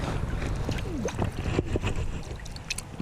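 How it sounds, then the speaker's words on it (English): A close, continuous rubbing and scraping noise of a camera strap against the microphone, with a rumbling, windy texture throughout and no talking, outdoors while trout fishing in Pennsylvania. "I know the strap noise on this is a little loud"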